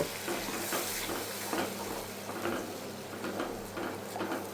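Egg masala stirring and sizzling in hot oil in a pan, a steady frying crackle with scraping strokes of a spoon repeating every second or so, close and continuous with no talking.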